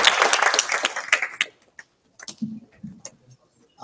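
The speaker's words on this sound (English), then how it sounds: "I think all the panelists deserve an applause" Applause for conference panelists at the close of a development aid session, a burst of dense clapping for about a second and a half that thins into a few scattered claps and faint murmurs before fading out.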